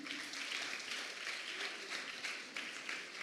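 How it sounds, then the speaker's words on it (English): Sustained audience applause at a student talk event, a dense steady wash of many hands clapping together, moderately distant and continuous throughout. "Can we have one more round of applause for Anoki?"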